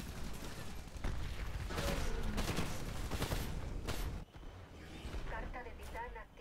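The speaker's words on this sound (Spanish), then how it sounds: "Cañón de 40 milímetros de disparo automático." Rapid automatic 40 mm cannon fire in the Titanfall video game, a string of heavy bursting shots with booming impacts, dense and loud through most of the stretch before thinning out near the end, with game voices mixed in.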